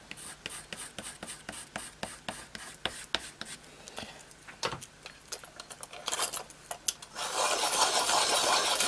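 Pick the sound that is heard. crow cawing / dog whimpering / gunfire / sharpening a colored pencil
sharpening a colored pencil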